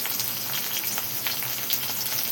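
Chopped onions and a large cut tomato sizzle steadily in a hot pan for sambar, a continuous close frying hiss with faint stirring and no voices.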